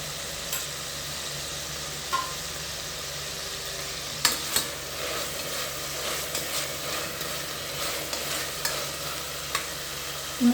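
Pieces of chikulya wheat dough sautéed in a pan, a constant soft sizzle with sharp scraping clicks from stirring, close and fairly quiet, no voices.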